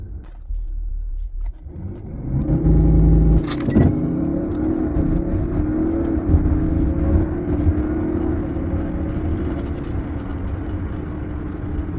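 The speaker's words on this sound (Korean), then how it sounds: "마지막으로 런치 컨트롤 한번 해보고 영상 끝마치도록 하겠습니다." A BMW F10 530d diesel sedan launches hard under launch control, its engine rising into a loud, steady, rumbling surge that carries on continuously after a brief sharp rattle near the start.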